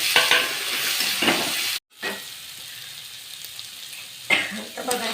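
Tomatoes frying with moth beans and onion in a pan, a broad sizzle under scraping stirs, with a short gap partway through and a burst of stirring near the end.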